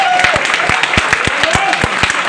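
A lecture audience claps at a talk on nanotechnology, with quick, fairly even hand claps sounding close and loud over a continuous background murmur.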